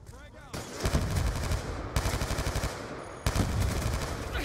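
Call of Duty gunfire fills the scene with rapid, dense automatic bursts, loud and steady, broken by a few sharper blasts that reset the rattle.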